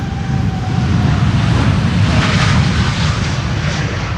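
An airliner passes on departure from Schiphol's Polderbaan runway in windy conditions, a loud, broad roar of jet engines sustained throughout with gusty wind noise and no voices.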